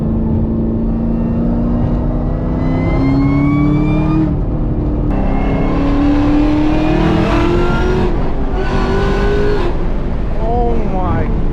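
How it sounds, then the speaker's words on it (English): Supercharged muscle car engine pulls with the windows up, a loud continuous rising roar with supercharger whine, shifting and climbing again several times, heard from inside the cabin. "Let's see if you can hear the supercharger better with the windows up."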